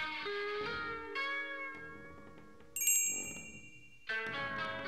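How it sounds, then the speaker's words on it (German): A small bell chimes once in the adventure game The Night of the Rabbit, a bright brief ring rising over sustained tonal game music. "Und jetzt benutzen wir das Klöckchen mit Kitsune."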